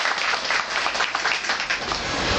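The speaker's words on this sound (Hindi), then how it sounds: "मास्टर जी के लिए भजन गीत के लिए तालियां एक बार जोरदार।" A gathering of devotees at a Gita society meeting claps for a bhajan singer, dense continuous applause close and loud for a couple of seconds, no voices over it.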